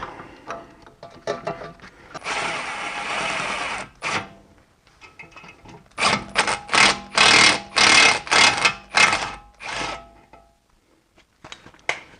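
A two-jaw puller from Harbor Freight working a front wheel bearing off a BMW E46, heard as a sustained grinding stretch followed by a run of loud, rapid ratcheting bursts, close and with no talk.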